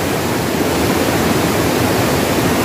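Fast-flowing river water rushes in a loud, unbroken roar that fills the whole stretch with dense broadband noise, close and continuous, with no voices.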